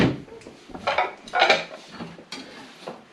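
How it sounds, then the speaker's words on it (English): Good Gibson Home dinner plates, a Christmas gift, being taken out and handled, giving a series of close ceramic clinks and knocks in irregular bursts, with no talking. "we're going to get the good plates out"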